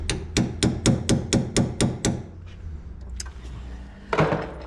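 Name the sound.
hammering on a 2013 Corolla steering knuckle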